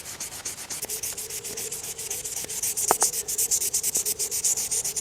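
Sandpaper scrubbing along a Condor Bushlore bushcraft knife blade in steady back-and-forth strokes, a close, continuous rasping rhythm with a few sharper scrapes and no talk.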